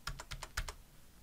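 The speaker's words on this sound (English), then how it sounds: "I'm going to type my starting salary" Quick keystrokes on a computer keyboard, about six light clicks in a fast cluster over a second, close and quiet with no talking.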